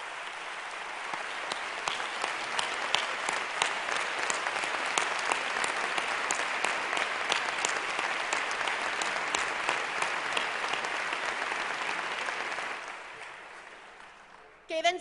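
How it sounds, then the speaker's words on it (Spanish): Sustained, loud audience applause at a closing political party conference, a dense wash of clapping holding steady for about twelve seconds before fading, with a voice breaking in at the very end. "vos demano un fort aplaudiment per qui mos ha donat tant"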